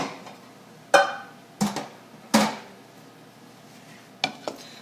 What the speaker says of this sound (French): on va mélanger dans un petit chaudron